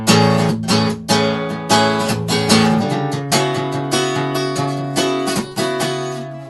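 A guitar plays a song variation, a steady series of strummed chords that ring out and shift in harmony midway, close and alone without talk.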